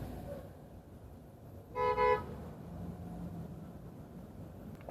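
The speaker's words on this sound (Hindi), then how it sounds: "ट्रैफिक लगना चालू हो गया है।" A single short car horn toot sounds in the middle of quiet Indian road traffic, heard from inside a moving New Jimny, over a low steady rumble of the road.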